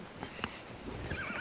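A horse in the video game Battlefield 1 gives a short whinny with clip-clopping hooves, brief and fairly close, with no talk over it.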